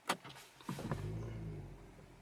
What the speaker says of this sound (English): Now let's go ahead and start it up.